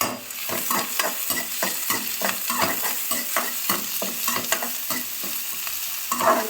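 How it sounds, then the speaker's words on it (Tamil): Chillies and garlic sizzling as they are sautéed in a hot pan, with repeated stirring and scraping strokes at a steady rhythm; no voices. "பூண்டு ரெண்டு பல்லு பூண்டு போட்டு தாளிக்கணும் ஆமாம் சாரி வதக்கணும்"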